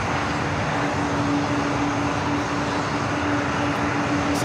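Air 985 airliner arriving from Anchorage at Los Angeles LAX, a steady broad engine roar with a low droning tone, even and moderately distant throughout.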